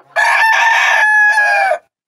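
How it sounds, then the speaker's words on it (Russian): A rooster crows once, loud and close, a single drawn-out cock-a-doodle-doo lasting under two seconds. "Петушок песенки поет."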